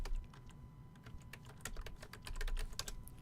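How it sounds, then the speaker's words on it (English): Fingers tap quickly on a computer keyboard, a quiet stream of close, irregular key clicks with no voices. "we can type in Colorado Springs"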